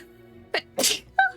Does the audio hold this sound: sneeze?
yes